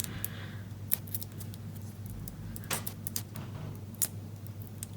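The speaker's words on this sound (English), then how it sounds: "Just peeling those backings off." Quiet, close crackling and ticking as backing papers are peeled off mini dimensional adhesive foam pads, with a few sharper tears over a low steady hum.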